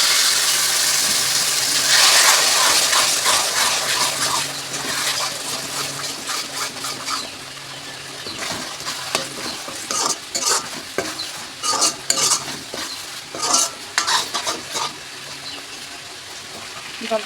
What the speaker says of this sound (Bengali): তা সামান্য একটু জল দিয়ে দেবো।